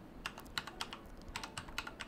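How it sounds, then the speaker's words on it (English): Rapid, irregular clicks of keys being typed on a computer keyboard, close and crisp, about a dozen strokes in quick bursts with no talking. "try to type FileZilla, hit enter"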